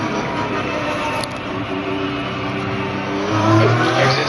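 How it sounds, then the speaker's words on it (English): Porsche 911 GT3 Cup engine in the iRacing simulator at the Nürburgring during practice, a steady drone that climbs in pitch as revs rise toward the end, loud and continuous with no talk. "So I'm into the Porsche 911 in the GT3 Cup, just doing a practice. Off we go."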